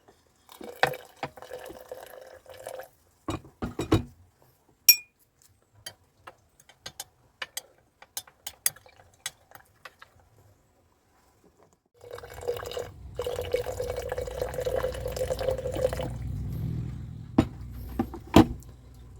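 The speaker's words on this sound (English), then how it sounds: "Rinse this one over and over until the pH is normal" Water poured and rinsing over material during a silver recovery from circuit breakers, washed repeatedly until the pH reads neutral: scattered close drips and clicks at first, then a steadier running, splashing pour in the second half.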